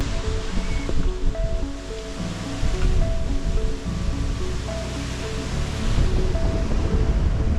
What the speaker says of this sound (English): We're nearly up most of this waterfall.